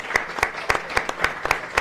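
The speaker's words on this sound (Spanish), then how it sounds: "yo solamente por eso creo que merecen este aplauso." An audience at a book presentation claps in unison, crisp evenly spaced beats about four per second, moderately close, steady and rhythmic.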